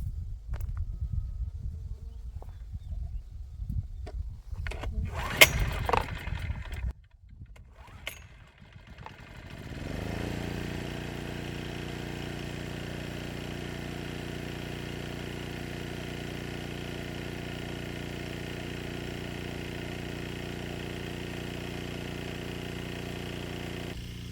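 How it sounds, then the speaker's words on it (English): A small generator runs steadily to power irrigation pumps on a farm in Alaska, starting up partway through and then holding an even, continuous drone close by after some earlier handling noises. "so the little generator does run them"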